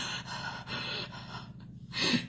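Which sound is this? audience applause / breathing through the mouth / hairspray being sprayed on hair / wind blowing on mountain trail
breathing through the mouth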